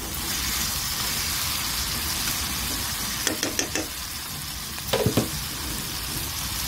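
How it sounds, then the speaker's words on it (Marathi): Ground ridge gourd paste sizzles and fries in hot oil with a constant close crackle, while a spoon scrapes and stirs it in two short bursts of knocks partway through. "फक्त असा परतवायचा त्याला आणि तेलावरतीच वाफवायचा आहे"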